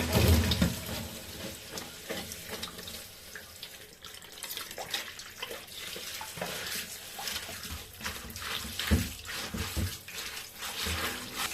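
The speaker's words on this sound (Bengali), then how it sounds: "ভালো করে ধুয়ে তারপর রান্না" Running tap water splashes steadily over chicken feet being washed in a sink before cooking with cabbage, a continuous close rushing stream with small irregular splashes and no talk.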